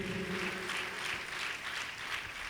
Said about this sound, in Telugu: చప్పట్లు కొట్టి సంతోషంగా దేవుని మహిమపరచండి గట్టిగా